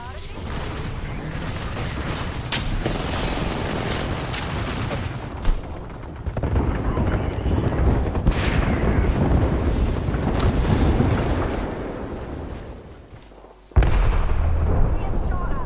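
Gunfire from the video game Apex Legends rattles in dense, loud bursts almost throughout, with a brief lull before a sharp return near the end, while a player talks over it.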